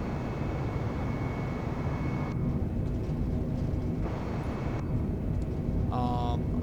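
Airliner taking off in Microsoft Flight Simulator, a steady broadband engine roar holding throughout at constant loudness, with faint tonal chimes near the end.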